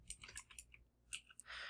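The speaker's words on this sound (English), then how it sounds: "Then I'm going to type in the name of the course I want to copy from." Quick bursts of keys clatter on a computer keyboard as someone types a course name, a soft, close, irregular patter of clicks.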